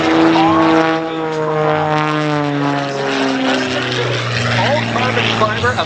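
An all-carbon-fiber MXS-RH aerobatic propeller plane, about 1,200 pounds with a 380-horsepower Lycoming engine, flies at the 2023 Columbus air show. Its loud, buzzing propeller drone falls steadily in pitch as the plane passes close by.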